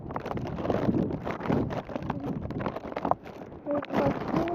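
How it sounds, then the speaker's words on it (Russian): Strong wind blows along an outdoor street, buffeting the microphone in a continuous, gusty roar that swells and dips throughout, with faint movement sounds underneath. "Ветер по улице."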